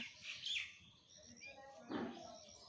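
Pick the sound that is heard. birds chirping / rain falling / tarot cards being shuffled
birds chirping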